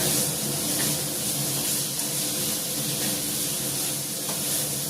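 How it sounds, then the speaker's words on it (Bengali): Pieces of snakehead fish fry in a pan, browning in oil with a steady, even sizzle that holds close and constant throughout, with no voices. "দেখো এখানে হচ্ছে শোল মাছ ভাজা বসিয়েছি"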